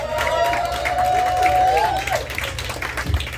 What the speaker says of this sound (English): Can we get a round of applause for all the poets in the house tonight?